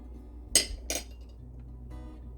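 Pie filling of melted butter, eggs, milk, salt, cinnamon and vanilla being stirred in a bowl for an oatmeal coconut pie, two close clinks of a utensil against the bowl followed by a faint scrape.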